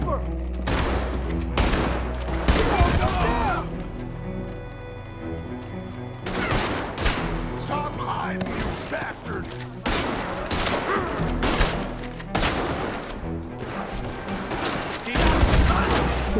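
Pistol and shotgun gunfire in a video game crackles in dense, sustained volleys of loud overlapping shots and thuds, with barely a pause across the whole stretch.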